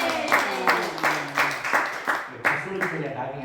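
A church congregation at a Korean Thursday worship service applauds to welcome a singer, with bursts of clapping rising in a loose rhythm under a speaking voice.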